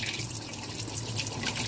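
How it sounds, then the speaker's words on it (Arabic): Water runs steadily from a tap into a clogged bathroom sink and pools instead of draining. It makes a continuous close splashing rush with no talk. "لا تلاقي الميه بترتفع وتروح مجمعه ميه"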